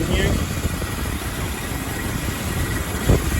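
Mercedes-Benz engine idling with the A/C compressor clutch engaged, a steady, close mechanical drone and vibration throughout, with a brief clunk near the end and a person talking over it.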